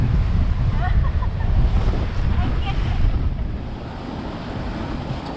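Rough sea waves surge and wash around a sailing boat rigged down for strong wind between Bajo and Pulau Langawan, with steady loud wind buffeting throughout and a continuous churning roar.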